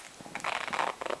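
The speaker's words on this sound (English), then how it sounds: "So I'm just going to drop it back in and zip it back up." A small bag being zipped closed, a short rasping zip run of about a second, close and fairly quiet with no talking.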